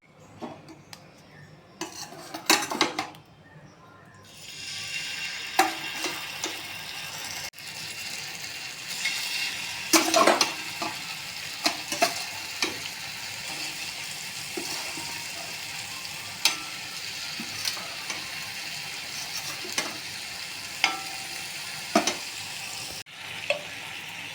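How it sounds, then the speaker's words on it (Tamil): Rock fish fries in oil on a dosa griddle, giving a steady, soft sizzle with scattered clinks and scrapes of a utensil against the pan throughout. "ஒரு பக்கம் நல்லா வெந்து வந்ததும் மறுபக்கம் திருப்பி போட்டு தான் சூப்பராக பாறை மீன் வறுவல் ரெடி ஆகிடுது பாருங்கள்"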